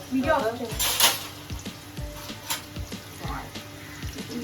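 Whole spices sizzling as they go into hot oil in a pan for Tamil Nadu style mutton biryani, a soft, close crackle broken by light clinks and taps, with someone talking over it.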